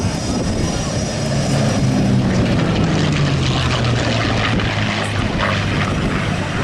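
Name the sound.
North American NA-73X aircraft flying past, Allison engine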